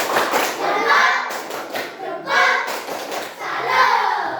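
A class performs a patterned clapping chant more loudly, sharp clusters of rhythmic claps in short bursts with gaps between, close and lively, with children's voices calling along amid the clapping.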